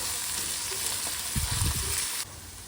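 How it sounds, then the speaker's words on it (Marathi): Onion and tomato frying in a pan crackle with a steady close sizzle and a burst of scraping stirs midway, before the sound drops off abruptly near the end. "टोमॅटो सुद्धा आपल्याला मऊ होईपर्यंत परतवून घ्यायचा आहे"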